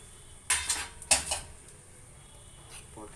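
Metal spoon scraping and clanking against a pan while stirring cashews into maida halwa, two clusters of sharp clinks followed by quieter scraping.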